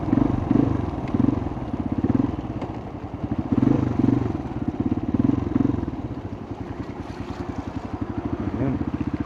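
A Rusi motorcycle rides through flood water on a flooded Quezon Road in San Simon, Pampanga. Its engine pulses loud and close with a sloshing churn the whole way, and a voice talks faintly underneath.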